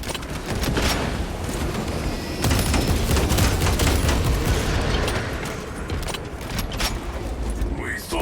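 Gunfire and explosions rage in a Warhammer 40,000: Space Marine 2 battle, with dense, continuous volleys of shots and blasts across the clip, a louder burst of detonations near the middle, and voices shouting over the din.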